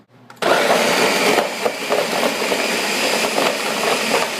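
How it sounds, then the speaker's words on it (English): A blender on its puree setting kicks on abruptly and runs steadily at high speed, a loud whirring grind with slight fluctuations as it purees a green smoothie. "we're going to use the puree setting on the blender"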